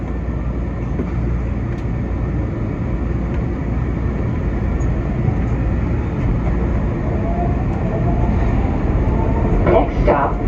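A Market-Frankford Line subway train rumbles steadily between stations, a loud continuous roar with rising wheel squeal and screeches near the end.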